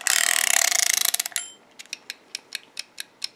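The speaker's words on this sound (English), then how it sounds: "You hear that ticking noise?" An activity timer ticks steadily, starting with a fast dense run of clicks that slows into distinct, evenly spaced ticks, close and clear with no talking.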